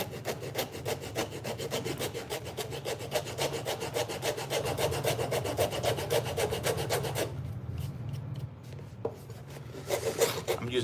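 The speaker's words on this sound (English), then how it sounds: "I'm using a rasp because I don't want to make it too loud for you guys here with that machine" A hand rasp files leather in a bootmaker's shop with fast, even rhythmic strokes, close and steady for several seconds, then slowing to a few scattered rasping scrapes.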